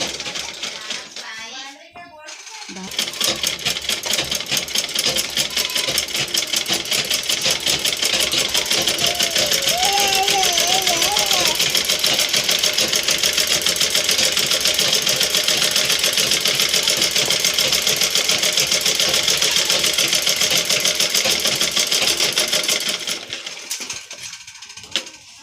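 An electric sewing machine stitches a readymade top, running in one long continuous fast rattling whir for about twenty seconds after a brief start, then stopping, with only faint background noise around it.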